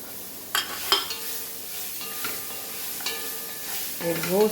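Grated coconut is stirred and dry-roasted in a pan for Goan coconut rice, with soft scraping strokes and light sizzling at an even, gentle level.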